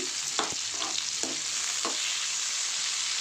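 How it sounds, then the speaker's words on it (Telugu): Moringa drumstick pieces fry in hot oil in a pan for a tamarind curry, giving a steady close sizzle broken by a few quick scraping stirs of the spoon, with no talking. "ఇప్పుడు మునక్కాయలు వేసుకోవాలి"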